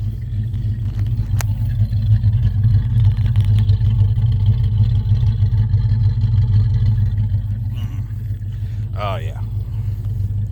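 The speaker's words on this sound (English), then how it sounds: "Love the sound of this car." A 1976 Chrysler Newport engine idles steadily with a low, rumbling drone, close by, on its first start in eight years, while someone briefly speaks near the end.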